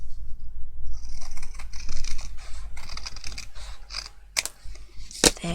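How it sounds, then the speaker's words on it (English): A few crisp scissor snips cutting through a stiff cardboard tab, close up, with soft rustling and handling noise around them. "I'm going to grab my scissors and I'm going to just chop this one."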